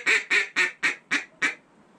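A hand-blown duck call imitates a passing duck with six short, evenly spaced nasal quacks, loud and close, fading slightly toward the end, no talking.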